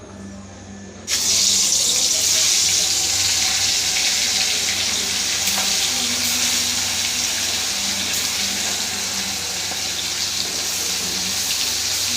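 Water suddenly starts gushing from a tap and keeps running steadily over a slightly burnt wok in a sink, a constant splashing rush that fills the rest of the clip.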